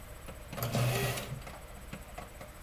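A sewing machine stitches in a short, close burst, its motor whirring up and running briefly before easing off into quiet.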